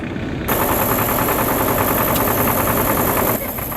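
An antique farm tractor engine runs close by at an antique tractor fair, a loud steady chugging drone that swells suddenly and holds before dropping back near the end.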